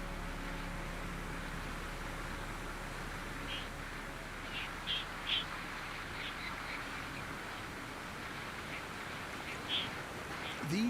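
Torrent ducks on a fast Andean mountain river in South America, a few short quacking calls rising above steady loud rushing whitewater.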